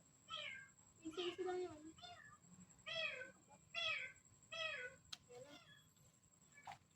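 A cat meows repeatedly near a cemetery at night, about seven separate cries in an irregular rhythm, fairly close and moderately loud, with a brief spoken line among them.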